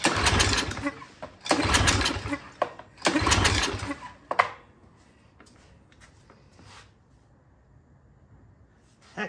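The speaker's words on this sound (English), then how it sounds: "Heck, it doesn't even want to start with starting fluid." A Troy-Bilt 2800 PSI pressure washer's small engine cranks and sputters in three loud bursts, failing to start even with starting fluid, then dies away; quieter handling noises follow with no running engine.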